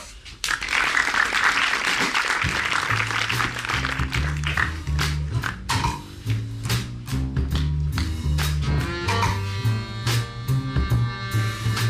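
A crowd applauds, loud and dense at first, then thins into scattered claps as a low, rhythmic bass-heavy music beat enters and continues underneath.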